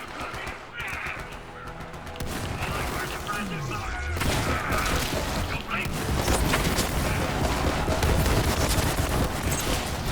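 Gunfire from a weapon in Borderlands 3 bursts in rapid, loud volleys, first in short spurts, then a denser sustained barrage, mixed with game effects and someone talking over parts of it.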